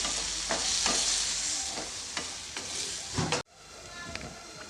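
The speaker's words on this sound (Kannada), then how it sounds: "ಇವಾಗ ಇದನ್ನು ಒಂದು ಐದು ನಿಮಿಷ ಇದರಲ್ಲೇ ಫ್ರೈ ಮಾಡ್ಕೊಳ್ತೀನಿ" Pineapple frying in hot oil in a pan for a pineapple gojju, a loud close sizzle with periodic stirring scrapes, then the sizzle drops sharply quieter partway through.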